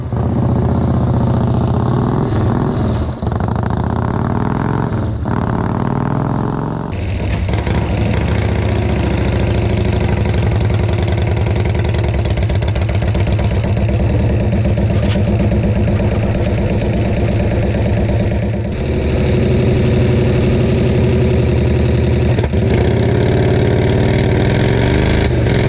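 V-twin golf cart engine running nearby, a loud, deep, lumpy rumble that shifts in pitch as it revs and settles, with no talking over it.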